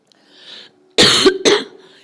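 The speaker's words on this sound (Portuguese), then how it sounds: "que tosse é essa? Misericórdia." Coughing from an audience member at a graduation ceremony, two loud harsh coughs in quick succession after a faint murmur, close and clear.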